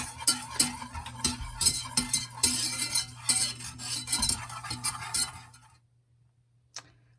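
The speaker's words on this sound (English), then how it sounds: "now I'm going to add my flour, just 2 tablespoons of flour, and we're gonna whisk this in" A whisk beats flour into melted butter for a roux, clattering quickly and rhythmically against the pan for several seconds before stopping, followed by one faint tap.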